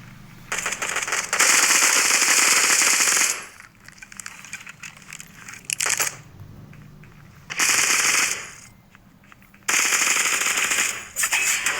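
Rapid machine gun bursts in the mobile shooter game Bullet Echo, several loud sustained volleys of fire separated by short quieter gaps, close and dominant.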